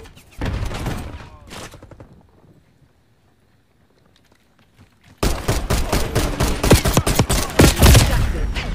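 Gunfire from the Call of Duty Black Ops 6 beta: a short burst of loud shots, a quiet lull of a few seconds, then a sustained, rapid run of sharp, punchy automatic fire.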